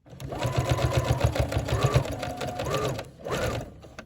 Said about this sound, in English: I want to make sure I sew past my stitching line there.